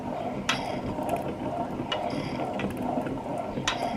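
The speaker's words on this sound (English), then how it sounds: "I don't know if you could hear the oil pump actually trying to get suction there." Oil pump on a 1969 Honda CL160 engine being spun by hand during a rebuild, giving faint repeated mechanical clicks and ratchety ticks over a low background hiss, close by.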